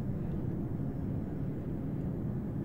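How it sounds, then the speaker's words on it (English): An Apache and a Chinook helicopter fly and hover overhead in a military video game, heard as a steady, continuous low rotor rumble with no breaks, moderately loud and with no one speaking. "The Apache's hovering just east of OBJ Welcome Home, and the Chinook is flying just over the Apache"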